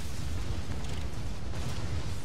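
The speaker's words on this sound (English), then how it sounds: "Explosion." An explosion ability going off in a volcano-themed video game dungeon: a dense, sustained rumbling roar that stays loud and even throughout, with no talk over it.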